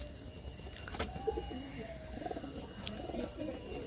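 A Madras pigeon coos softly in a loft in low, murmuring bursts, with a couple of sharp knocks and faint background noise around it.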